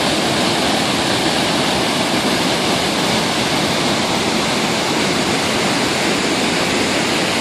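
Ellison Creek Falls in monsoon flood, a heavy, steady roar of rushing water that fills the whole clip, loud and close with no let-up and no voices.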